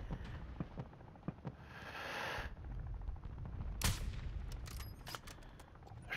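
Call of Duty gunfire, faint and far off. Scattered single shots and short bursts crackle through a murky battlefield din, with one sharper, louder crack near the middle and almost no talk.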